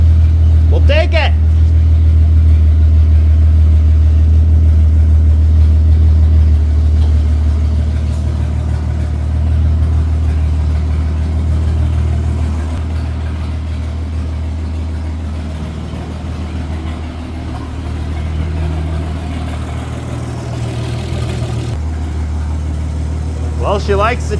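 The engine of a 1952 Dodge half-ton truck runs steadily at idle on the choke, a close, deep rumble that holds throughout the clip, with brief noises near the start and the end.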